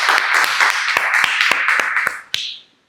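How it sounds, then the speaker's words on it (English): Audience clapping at a live public speaking coaching session: a dense, steady round of hand claps with sharp individual claps standing out, fading off near the end into silence. "Let's give a round of applause."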